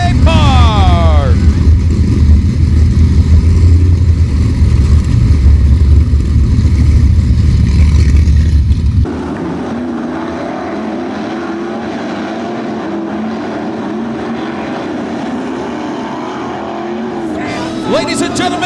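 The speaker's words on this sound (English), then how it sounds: "the wave lap. For the 305 sprints as they come down the front stretch" 305 sprint cars on the wave lap down the front stretch at Attica Raceway Park, loud roaring engines that drop abruptly to a distant drone, with a voice over the public address.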